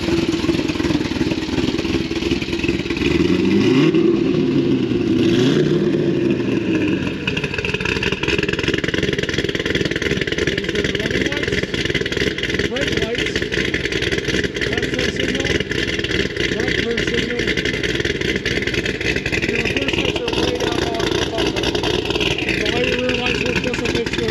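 A 2006 Chevrolet Corvette Z06 with a 7.0L LS7 V8 making 661 rear-wheel horsepower, running steadily and loudly with a rising rev early on, as someone talks over it throughout.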